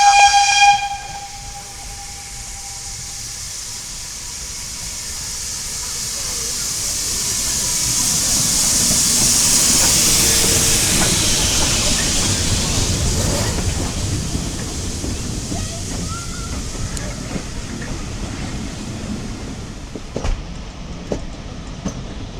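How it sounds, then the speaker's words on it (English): A steam train pulls away from a station bound for Kidderminster, starting with a brief whistle, then a rising hiss and chuffing rumble that swells and slowly fades. "I'm on the steam train going to Kidderminster."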